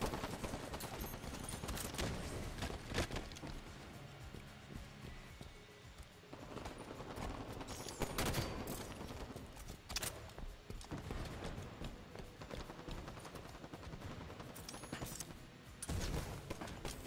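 Gunfire in the Halo video game: rapid bursts and single shots crackle in uneven clusters throughout, with a few louder blasts standing out.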